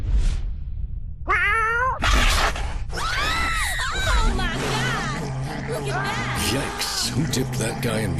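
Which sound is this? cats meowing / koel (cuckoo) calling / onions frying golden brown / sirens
cats meowing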